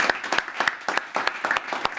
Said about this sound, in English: we can give them another round of applause just to congratulate them once again